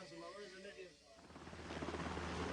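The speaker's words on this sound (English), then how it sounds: "A helicopter touches down on the flight deck." A helicopter's rapid rotor thumping rises after a brief voice, the chopping beat growing louder and steadier as it comes close to land on a Nimitz-class aircraft carrier's flight deck.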